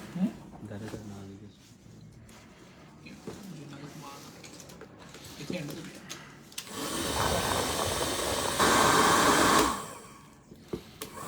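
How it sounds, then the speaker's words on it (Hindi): A large two-speed, two-heat hair dryer roars on with a steady broadband whoosh, stepping up louder partway through before cutting off; someone talks before it starts and briefly after. "ये मिलेगी ड्रायर आपको सिर्फ और सिर्फ, स्पीड के भी 2 हैं इसके अंदर और हीट के भी 2 हैं"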